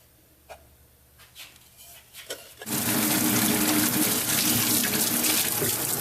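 Hot water gushes loudly and steadily from a tap, filling a container for a heavy-duty, aluminum-safe degreaser soak, after a few seconds of quieter clinks and handling.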